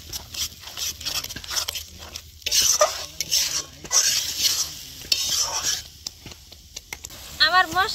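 Masala of spices and tomato paste being stirred and fried in a pot for a village-style chicken curry, with steady sizzling and repeated scraping stir strokes, close and fairly loud, with brief talk in between.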